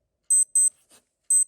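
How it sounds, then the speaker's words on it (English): A Casio digital watch alarm sounds in short bursts of high, thin electronic beeps, two quick pulses then another after a pause, close and clear in an otherwise silent room. "So that's the alarm. So it shows the alarm is working perfectly."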